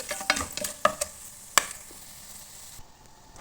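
Whole biryani spices, bay leaves, cinnamon sticks, cardamom and cloves, sizzle in hot oil in a pan for a chicken pulao. A spoon scrapes and clicks against the pan a few times over a soft steady frying hiss.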